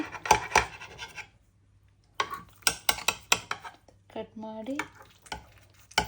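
Lasagne being cut and served from a pan, with a series of sharp scraping and tapping knocks of a utensil against the dish, separated by short pauses and a few quiet hums.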